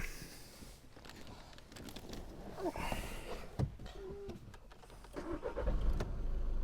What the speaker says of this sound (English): So that's the engine started.